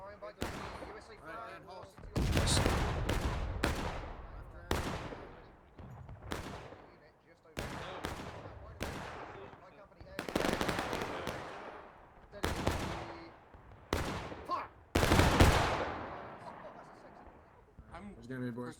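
Repeated musket shots crack out in the Civil War video game War of Rights, some sharp and close, others as scattered pops, with voices talking between the bursts.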